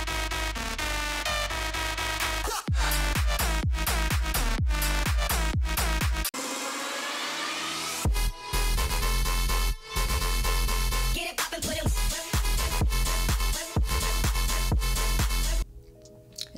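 AI-generated electronic dance track, with punchy beats and dense synths, a short breakdown and sudden silent gaps between loud, compressed sections.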